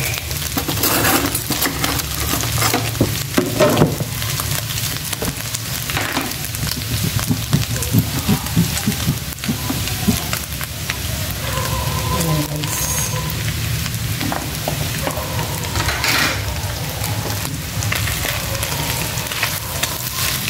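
Butter is stirred in a pan while cooking Filipino chicken pastel, a steady sizzle of frying with scraping and clinking of a utensil against the pan, continuous and close.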